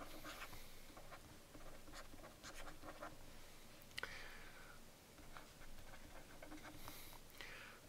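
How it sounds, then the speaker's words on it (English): A pen scratches across paper as someone writes out calculus work by hand, giving faint, close, irregular strokes and taps with no talking. "So I'm just going to write that out."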